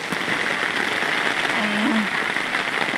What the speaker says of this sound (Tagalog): Ay, grabe na tong ulan na to.